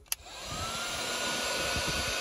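Heat gun blowing on a heat shrink wire connector during boat wiring work, a sharp click at the start and then a steady, close, loud whooshing hiss.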